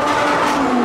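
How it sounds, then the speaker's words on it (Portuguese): A car engine roars loudly and close, a sustained revving drone with a slowly shifting pitch filling the short moment without any voices. "Liga esse carro aí, vamos ver se faz mais barulho que o meu"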